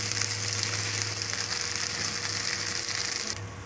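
Rice sizzles steadily in a hot pan with fried cashews, raisins and whole spices for a vegetarian banana flower pulao, a loud continuous frying hiss that drops away sharply just before the end.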